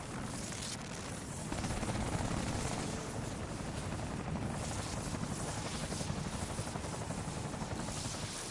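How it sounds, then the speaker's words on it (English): A helicopter spinning out of control in the video game Spider-Man: Miles Morales, its rotor wash a steady, dense roar that swells after the first second and holds loud and close to the end, with no talking over it. "there's a helicopter out of control near you"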